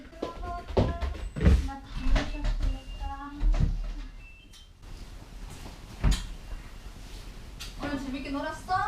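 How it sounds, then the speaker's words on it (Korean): A front door of a Korean home opens late in the evening with a few clunks and knocks, heard amid people talking nearby. "공부를 마치고 쉬고 있는 성우에게 들려오는 현관문 소리."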